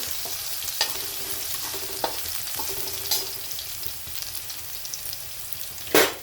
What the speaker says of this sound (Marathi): तेलात पडल्याबरोबर थोडंसं कसं आपल्याला परतून घ्यायचं आहे